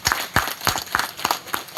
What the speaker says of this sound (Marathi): त्या सर्वांसाठी स्वतःसाठी एकदा जोरदार टाळ्या वाजवा।